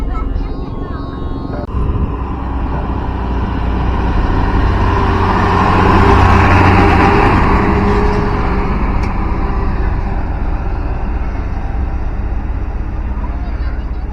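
Concrete mixer trucks work at a toll road construction site on the Padang–Sicincin toll road near KM 9–10, giving a steady heavy diesel rumble with broad mechanical noise that swells slightly midway and holds throughout.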